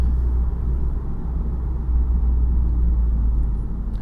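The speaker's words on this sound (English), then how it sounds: "Oh man, this car's fast, man." A tuned VW Golf R 7.5 with a DSG gearbox drives steadily, giving a loud, constant low engine rumble and road drone from inside the car, with no talk.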